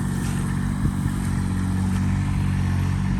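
A Kubota 4x4 ride-on lawn mower with a hydraulic transmission and a multi-cylinder engine runs at a steady, loud, close idle-to-mid rumble, with light mechanical clatter throughout and no voices.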